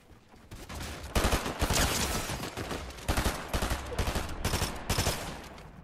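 Rapid bursts of gunfire from a Fortnite match, loud and dense with short pauses between volleys, sounding more like sustained automatic fire than single sniper shots.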